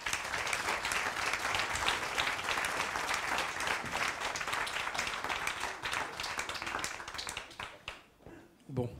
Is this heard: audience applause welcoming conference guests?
yes